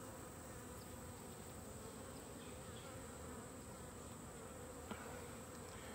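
Honeybees in an open Langstroth hive frame, with capped honey comb, drone in a dense, steady buzz that holds evenly throughout, with a single faint tap near the end.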